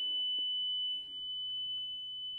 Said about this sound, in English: a free sine wave test tone that I've just got on, basically on YouTube, to be fair, and it's just a sine wave